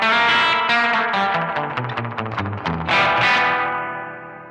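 Electric guitar through a Danelectro Spring King Junior spring reverb pedal with the tone turned down, a run of dark, wet picked notes and chords ringing with reverb tails, loud and alone, fading at the end.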